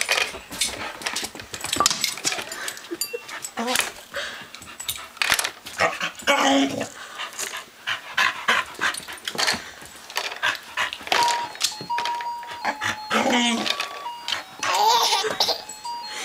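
A puppy makes excited yips and squeaky whimpers while chasing a mirror reflection, amid clattering and a few light knocks, the sounds coming in quick uneven bursts nearby.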